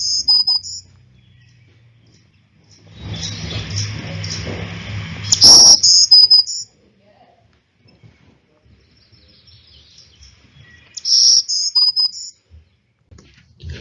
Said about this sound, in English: They also have a more buzzy song that they will give, typically in aggressive encounters or during certain parts of the breeding season